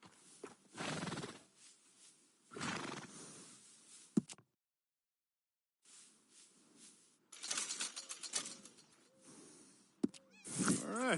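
Horse in Red Dead Redemption 2 neighing and snorting in several loud bursts, with clip-clop hoof sounds and a short silent gap midway, close to the listener.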